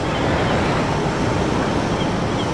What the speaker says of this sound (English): You can really hear the whine of the engines, which is great.